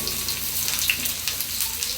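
Chopped onions sizzling in a hot pan for Filipino home cooking, a steady close hiss of frying with no break and no talk over it.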